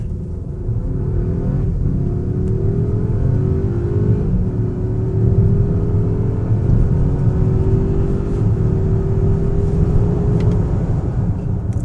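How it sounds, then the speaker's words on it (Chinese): A 2024 Volvo XC90 Ultimate T8 plug-in hybrid in Hybrid Mode launching from a standstill, its engine roaring as it pulls hard, with a deep steady rumble and a rising whine that climbs through the run and stays loud throughout. "我听到引擎是有那一种咆哮声"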